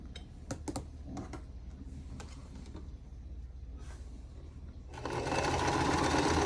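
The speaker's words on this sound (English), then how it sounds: "I'm just sewing the opposite corners" A sewing machine stitches the opposite corners of a Sunday Star quilt block, its steady mechanical whir running close and continuous, then swelling louder and denser toward the end.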